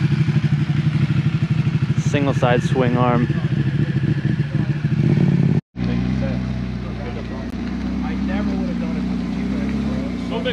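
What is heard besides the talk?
Ducati motorcycle with Termignoni exhaust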